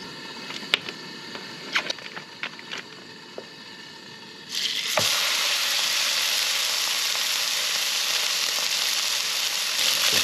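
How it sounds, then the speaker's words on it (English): Lamb dropped onto a hot cast iron skillet at an off-grid camp, a few light clinks and taps followed by a sudden loud, steady sizzle that carries on close up. "We can give this a 2-minute sear on each side"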